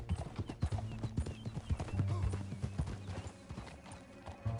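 Horse hooves galloping in Red Dead Redemption 2, a fast, rhythmic clip-clop of several horses with an occasional whinny and snort, fairly quiet in the mix, with a few voices heard over the riding.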